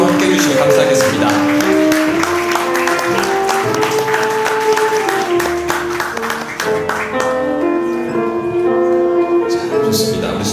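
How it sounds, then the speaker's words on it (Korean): Wedding guests at an Apelgamo Gwanghwamun ceremony clap warmly as the couple finishes their entrance, a dense patter of applause mixed under loud processional music with bell-like tones. "하객 여러분께서 따뜻한 박수로 함께 해주시면 감사하겠습니다"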